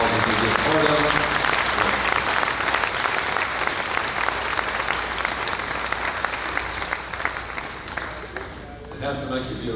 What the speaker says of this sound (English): Let's give all these scholarship winners a big round of applause